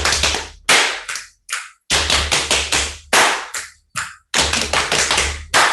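Rhythmic sequence of sharp claps and finger snaps, several crisp close hits repeating in a steady pattern with short gaps between groups.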